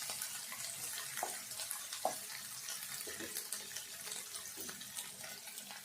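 Water runs steadily into a basin while dried fish is rinsed clean, a continuous moderate splashing with small intermittent clinks and spatters, no voices.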